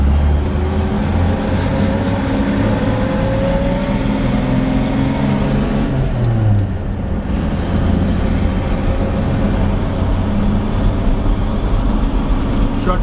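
A 1952 Chevrolet 3100 five-window pickup truck rolls along with a steady, loud engine drone and road rumble from inside the cab, with a brief dip as it shifts midway.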